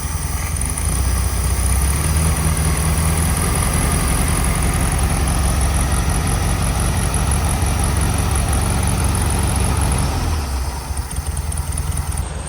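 A Volkswagen Beetle engine idles steadily up close, a loud continuous low rumble with a high whine, running evenly throughout and easing slightly near the end.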